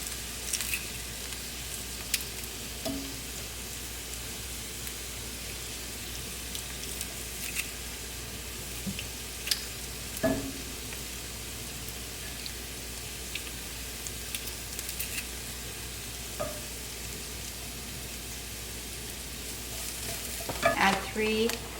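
Minced garlic and onions fry in a pan with a constant, moderate sizzle, broken by sporadic scraping stirs and clicks of a utensil against the pan over about twenty seconds, and a brief clatter near the end.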